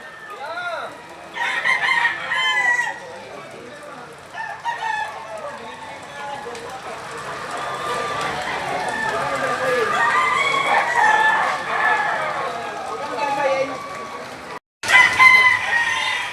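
Roosters crow repeatedly at a busy chicken market, with overlapping cock-a-doodle-doos and clucking throughout, some near and some farther off, while people talk in the background.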